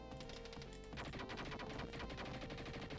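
Gunfire in the Dick Tracy Mega Drive game: rapid, dense bursts of shots over a busy game soundtrack, loud and continuous for about three seconds, with no talk.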